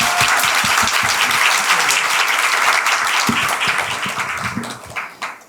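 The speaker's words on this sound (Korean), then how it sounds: "학부모님들께서 한 번만 더 크게 박수 한번 보내주셨으면 좋겠습니다" Parents at a Korean English academy information session give a sustained round of loud applause, dense clapping that carries steadily and then starts to fade near the end.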